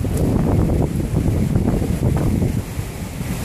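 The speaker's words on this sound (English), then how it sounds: "You can probably hear that wind too." Strong wind buffets the microphone on a wet hilltop, loud gusty rumbling that surges and eases continuously over the few seconds with no voices.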